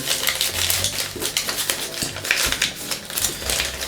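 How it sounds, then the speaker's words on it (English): Close crinkling and rustling of paper being folded into a mountain fold for an origami Ryujin dragon head, a dense run of crisp crackles with no talking. "And I'm pivoting that, making a mountain fold here."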